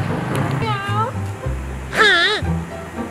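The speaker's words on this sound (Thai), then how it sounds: "เราเจอแมวด้านหน้าครับทุกคน" A cat met outdoors lets out two distinct rising-and-falling meows, the second louder and longer, close by over a low background hum with faint voice sounds around it.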